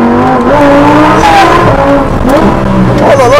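A Lamborghini Huracán STO sports car roaring loudly and continuously up close, engine note rising and falling as the tires squeal and skid, with no talk.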